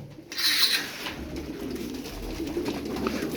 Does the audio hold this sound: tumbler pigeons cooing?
yes